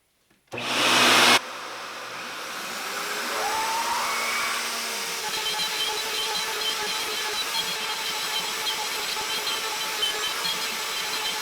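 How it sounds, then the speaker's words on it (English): A shop vac hooked to a CNC dust collection hood switches on with a loud whoosh, then runs as a steady, whining roar close by. "so I'm going to try a shop vac."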